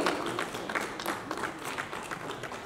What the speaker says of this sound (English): Let us have a huge round of applause for the winners